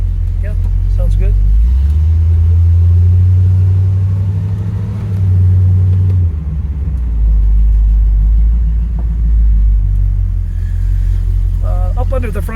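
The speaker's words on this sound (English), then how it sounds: "Will you hit the brakes right now while you just take the hands off the wheel?" A 1970 Camaro Z28 tribute driven on the road, its engine rumbling loud and close as it rises and falls through a run and slows for a stop, with voices talking inside the car.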